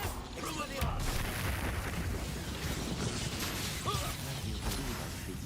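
A Confringo explosion spell cast in a Harry Potter video game gives a muffled burst and rumbling blast. A voice talks over the effects throughout, and the game's background clatter continues.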